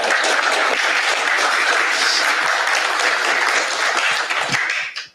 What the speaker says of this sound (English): A quick round of applause for our speakers.